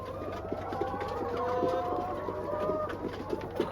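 Hens clucking and chattering inside a laying coop on a small Zimbabwean farm, several birds calling over one another in a steady, busy stream at close range, with no talking.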